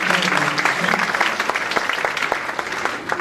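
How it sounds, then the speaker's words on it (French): An audience at an engineering-education conference gives its guests a lively round of applause, a dense, even clapping that carries on throughout and fades slightly toward the end. "Je vous demande d'abord d'applaudir vivement nos chers invités"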